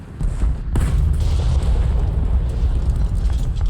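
Artillery fire and explosions in War Thunder during a World War I event: a loud, continuous booming rumble with a sharp blast cracking through near the start.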